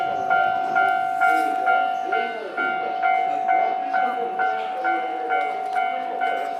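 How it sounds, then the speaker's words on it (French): A Tokyo metro train rolls into the station and stops, with a steady electric tone and repeated rhythmic clunks from the wheels that slow as it arrives, fairly loud and close. "il y a un métro qui se ramène"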